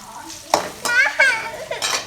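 Onions for tomato upma stirred in a hot pan, a utensil scraping and clinking against the metal in short strokes over a soft sizzle, close up with no talking.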